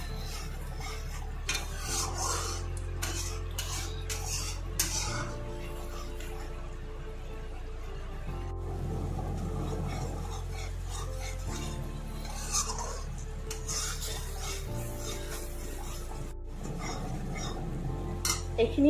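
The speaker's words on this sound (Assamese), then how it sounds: "এইখিনি ভালকৈ মই ফ্ৰাই কৰি আছোঁ" A utensil repeatedly scrapes and stirs spices frying with curd in a pan, giving soft rhythmic scraping and light clatter over a low sizzle. A faint kitchen hum runs underneath.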